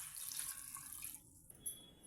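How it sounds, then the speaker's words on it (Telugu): Water runs from a tap into a cooking pot over broad beans, a faint, thin trickle that splashes softly for about a second and then stops, followed by quiet drips. "చిక్కుడుకాయ మునిగేటట్టు నీళ్ళు పోయాలి"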